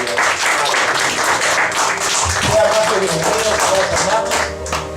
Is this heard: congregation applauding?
yes